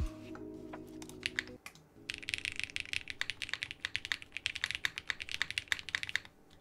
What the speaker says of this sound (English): let me just type a little bit with it